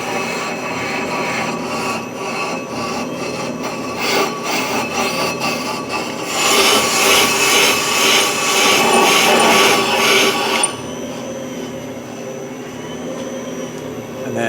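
A brake lathe turning and cutting a warped brake rotor, a loud continuous whirring grind that grows louder midway and then drops to a quieter hum as the pass ends.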